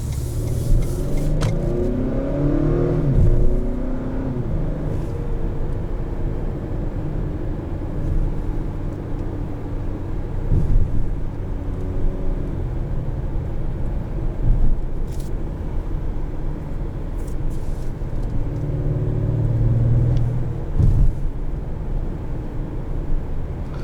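2019 Acura RDX Advance accelerating in Sport Plus mode at night, heard from inside the cabin as a continuous engine drone that rises and drops with gear shifts, no talking.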